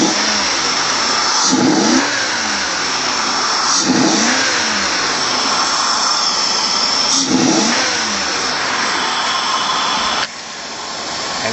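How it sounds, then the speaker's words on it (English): A 1998–2004 Cadillac STS engine, fitted with a cold air intake, runs steadily up close, revving up and down in several rising and falling surges before settling back toward idle. "Okay, car started up."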